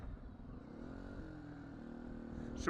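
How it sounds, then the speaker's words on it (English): A 2019 Beta 125 RR-S dirt bike with a non-stock exhaust, idling and revving steadily up close outdoors, with a rising engine note and a brief sharp clatter near the end. "So maybe this exhaust is not United States Forest Service approved."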